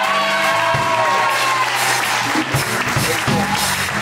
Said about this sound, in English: If you think that this was worth the time, let me get some applause.